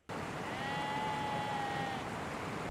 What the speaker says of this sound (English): as does that sheep over there who's being very,